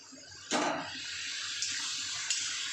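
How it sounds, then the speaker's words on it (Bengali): Boiled hot water poured into a pan of spiced chicken curry, a sudden loud splash and gush followed by a softer, steady sizzling hiss that continues to the end. "অল্প গরম জল দিয়ে দিলাম"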